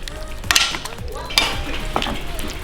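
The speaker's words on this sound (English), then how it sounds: "now we go ahead and just mix it all together." Cooked grouper and other ingredients are stirred together in a bowl, producing wet scraping and clinking utensil sounds with a few sharper scrapes, close and fairly loud.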